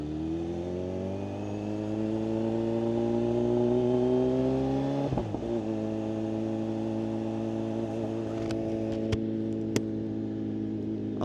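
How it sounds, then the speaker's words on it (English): A Kawasaki ZH2 supercharged motorcycle fitted with a Brock Performance exhaust idles with a deep, steady drone, climbs smoothly in pitch, drops back abruptly and settles into a continuous loud rumble with a few sharp clicks near the end. "she sounds amazing with the Brock Performance exhaust"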